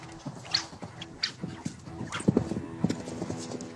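Horse hooves thud unevenly on soft ground during a vaulting session, with scattered bumps and a brief animal sound among them.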